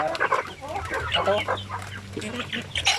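RTL Basilan hens that have just started laying cluck close by in a busy, overlapping chorus of short clucks and squawks, with no talking.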